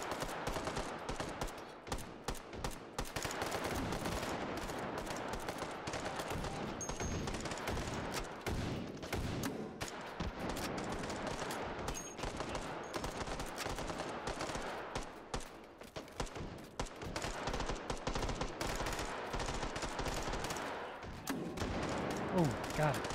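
Grenade launcher blasts and gunfire in the VR shooter Hot Dogs, Horseshoes & Hand Grenades, dense rapid shooting and explosive thumps running almost nonstop at low overall level, with some talking mixed in.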